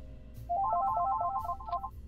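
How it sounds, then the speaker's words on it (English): A mobile phone plays its ringtone, a quick chiming melody of bright, rapid notes that starts after a brief quiet moment and lasts over a second. "That's my phone."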